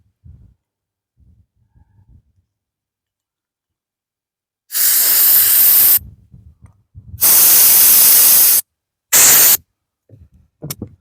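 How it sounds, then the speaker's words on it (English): Compressed air blasts out a part of a Ryobi 2300 generator in three loud hissing bursts, the first about a second long, the next longer, the last short, separated by quiet handling noises. "compressed air and blow it out real good."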